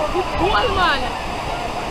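Waterfall at Dun's River Falls in Jamaica: a steady broadband rush of falling water holds throughout the clip, with voices talking over it.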